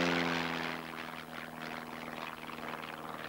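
A Jaguar jet aircraft in a deliberate spin gives off a continuous droning engine roar with a steady low tone and broadband rush, holding fairly level throughout and with no voices over it.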